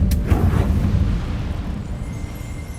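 A burst of fire from the Incendio spell in the video game Hogwarts Legacy: a sharp crack at the start, then a heavy rumbling whoosh that slowly fades, loud and close.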